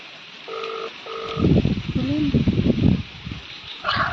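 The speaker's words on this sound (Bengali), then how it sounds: "রিং হচ্ছে" A telephone ringback tone on an outgoing call sounds as two short, clear, even bursts, followed by louder voices and background noise as someone talks.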